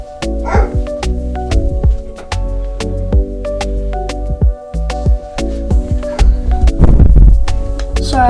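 A pet dog barks and yips repeatedly in a home, several sharp barks spread over a few seconds amid steady background sound, fairly close and loud.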